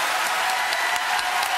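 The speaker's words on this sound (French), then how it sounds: "Applaudissements, s'il vous plaît." Steady studio audience applause on a French TV show, dense and even throughout, with many hands clapping at once and no voices standing out.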